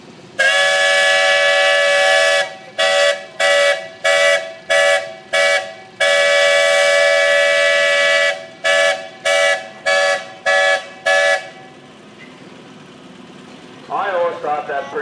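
Steam tractor whistle sounding the runaway-team signal: one long loud blast, then a rapid series of short toots, another long blast and more short toots, close and piercing.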